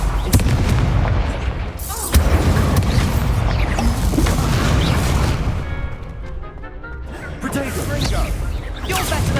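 Confringo fire spell blasts in the game Hogwarts Legacy, dense booming explosions and crashes rolling continuously at high volume, mixed with combat noise and voices throughout.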